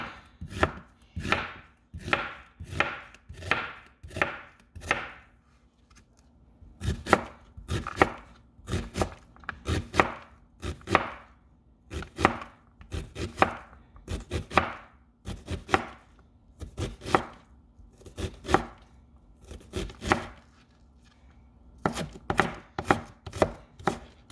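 A knife chops half an onion on a clean cutting board, making quick rhythmic bursts of sharp taps in several runs with brief pauses, close and clear with no talk.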